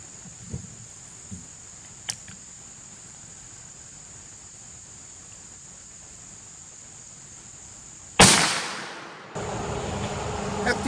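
A scoped .44 Magnum lever-action rifle fires a single loud, close shot outdoors during sighting in, then a lingering broadband rumble and steady hiss follow after faint clicks of handling.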